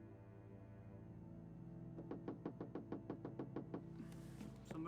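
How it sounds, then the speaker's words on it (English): Knocking on a door in the video game Gabriel Knight: The Beast Within, about ten quick, evenly spaced raps over a low background hum. "Somebody's at the door."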